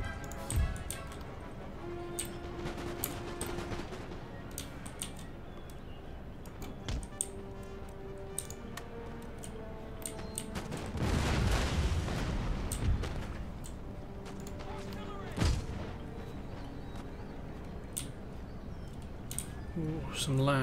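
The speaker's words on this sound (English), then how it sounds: "So I have my artillery focus fire onto these moving troops" Artillery fire in Empire Total War: scattered booming cannon shots and distant thuds spread across a busy battle soundscape with music, one louder cluster of rumbling blasts midway, while someone talks now and then.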